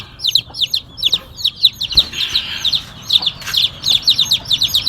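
Young chicks peep in rapid, high-pitched chirps, a dense near chorus of repeated short calls with a brief louder thump midway.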